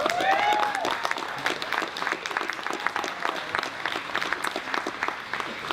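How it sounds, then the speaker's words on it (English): An audience applauds on a film festival opening night, with dense, steady clapping from a crowd that carries on for several seconds. A voice rises briefly at the start. "applause for that"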